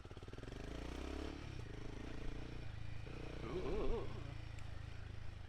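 Royal Enfield Himalayan 450 motorcycle riding on country roads with ABS switched off, engine droning steadily up close, then a brief tyre scrub as the rear wheel locks and skids, with a short exclamation from the rider.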